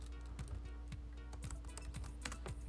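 Close, quiet typing on a computer keyboard: a steady run of soft, irregular key clicks and taps over a low background hum, with no talk.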